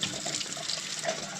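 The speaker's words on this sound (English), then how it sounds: "Rinse my little jar, my little old glass out." Tap water runs steadily over a small plastic glass being rinsed out, a close, continuous splashing hiss with no talk.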